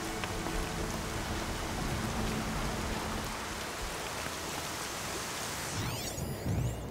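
Steady rain falls throughout a scene in the video game Horizon Zero Dawn, a dense continuous hiss with scattered drop impacts and low rumble underneath, no voices over it.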